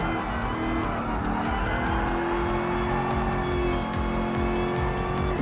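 Race car engines roar steadily on a track in Gran Turismo Sport, a dense, continuous drone of revving motors with tire noise, loud and unbroken, no voices.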